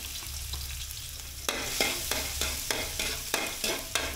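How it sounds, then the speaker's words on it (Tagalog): Garlic and onion sauté in oil in a pan for kare-kare, sizzling softly beneath a series of rhythmic scraping stirs of a utensil against the pan. "Maglalagay tayo ng mantika dito sa kawali. Gigisa tayo ng bawang sibuyas."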